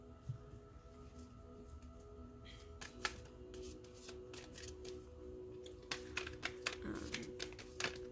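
Tarot cards being shuffled to draw clarifiers, heard as soft riffling and sharp little snaps that grow busier toward the end, quiet and close with faint background hum.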